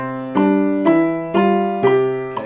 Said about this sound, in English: I'll play it up here with the metronome beating a